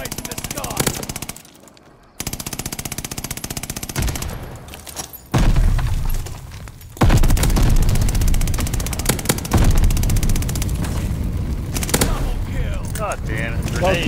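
Rapid video-game gunfire and grenade blasts crackle almost continuously, with dense bursts and a couple of brief lulls before heavy booming barrages resume, loud and close.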